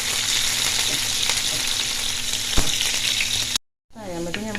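Sliced onion and curry leaves fry in hot oil as a tempering for a curry, giving a loud, steady, close sizzle. It cuts off abruptly and is followed by a short stretch of a voice speaking.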